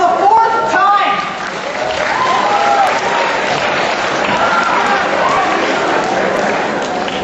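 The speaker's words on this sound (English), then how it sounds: "Thank you for applauding my pain." A large audience applauds a motivational speaker, broad clapping and crowd noise spreading across the hall, with a voice speaking over it throughout.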